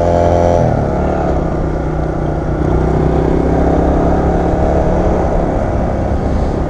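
Motorcycle engine droning loud and close during a ride in Canadian traffic, a continuous steady hum with wind rush and no clear speech.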